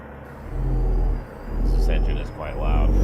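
A truck engine in American Truck Simulator drones with a loud, low rumble that swells and dips, while a voice talks over it.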